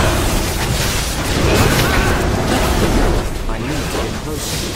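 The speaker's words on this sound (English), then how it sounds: "Hellfire rains from the sky!" Heavy, continuous rumbling blasts with whooshing debris, a barrage of fiery hellfire explosions in World of Warcraft: Legion, with voices partly buried in the din.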